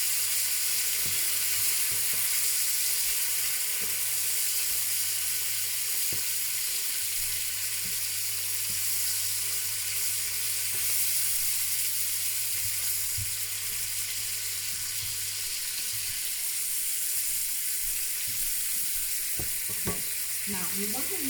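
Steak sears in a hot pan with a loud, steady, close sizzle that continues throughout, broken only by a few faint clinks near the end.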